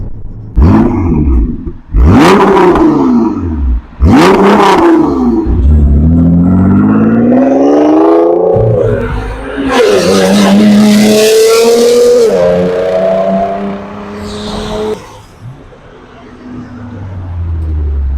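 Tuned 740bhp Nissan R35 GT-R, a four-wheel-drive performance car, revving and accelerating hard on a wet road, with loud rising engine sweeps, gear changes and a roaring pull, a voice talking over parts of it.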